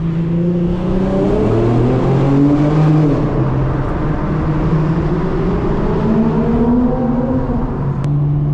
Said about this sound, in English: Should sound cool for a V6 GT.